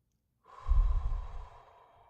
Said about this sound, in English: And another cleansing breath, taking it in and out.